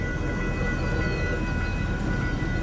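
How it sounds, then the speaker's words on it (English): A westbound Union Pacific train rolls past in Fremont, Nebraska, a steady dense roar of wheels and engine noise with faint high tonal squeals, loud and close throughout with no pauses. "This is Union Pacific heading west"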